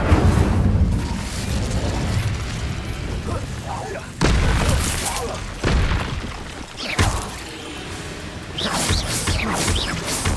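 A loud fiery spell blast from the Incendio fire spell in Hogwarts Legacy bursts out, with several sharp whooshing booms following amid game noise and voices talking.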